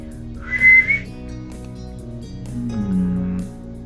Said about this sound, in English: you heard a whistle from your left side